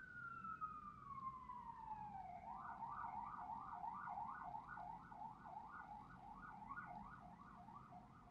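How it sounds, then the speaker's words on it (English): Emergency vehicle siren outside, first a long falling wail and then a rapid rising-and-falling yelp that repeats steadily, faint and distant beneath a low background hum. "oh my gosh, so many sirens today"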